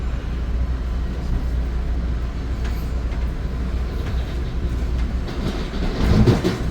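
Exo commuter train on the Vaudreuil–Hudson line between Vendôme and Sainte-Anne-de-Bellevue, heard from inside as a steady low rumble of wheels on rails with faint clatter, swelling louder near the end.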